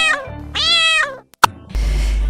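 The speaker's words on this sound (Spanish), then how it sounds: "¿Quieren saber cómo hace un gato?" A domestic cat meows twice, close and clear, followed by a brief click and a low steady background tone.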